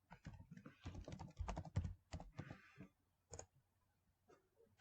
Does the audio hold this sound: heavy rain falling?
no